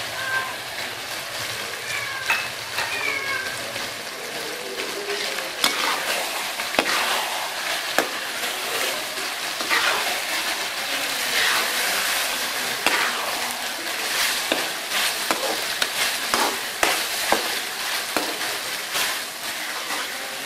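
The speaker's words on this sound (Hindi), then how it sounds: "गोश्त को हम अच्छे से भून लेंगे अब इस मसाले में हल्की आँच पे" Meat (gosht) stirs and fries in a cooked masala over low heat, with a soft continuous sizzle broken by repeated spoon scrapes and clacks against the pot, close by and without speech.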